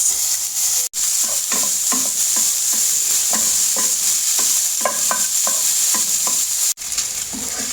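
Bacon bits fry in an oiled pan while a utensil stirs them, a steady bright sizzle punctuated by regular scraping strokes, close and loud, with two brief cuts to silence.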